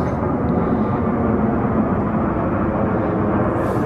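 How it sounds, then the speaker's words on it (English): A steady, low roar of an airplane passing overhead at sunset fills the whole stretch, broad and constant with no voices. "Look at the aeroplane."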